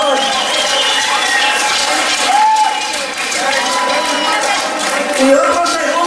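Crowd applause at a 2017 carnival in Santa María Coatzintla, a loud, dense, steady wash of clapping from many people that carries on throughout, with faint voices and cheers mixed in.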